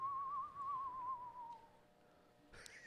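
A person whistles to imitate the sound of something floating past: one steady, slightly wavering tone that holds and slowly fades over about two seconds, followed by a brief burst of noise.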